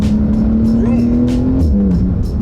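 A Porsche GT2 RS sports car drives with a loud, steady engine drone that climbs slightly and then drops near the end, with faint tire noise and a voice talking over it.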